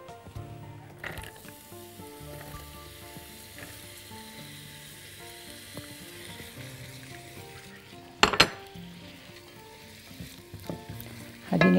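Chopped onion frying in olive oil in a pan, a soft steady sizzle with occasional stirring scrapes and a couple of louder clinks of a utensil near the end.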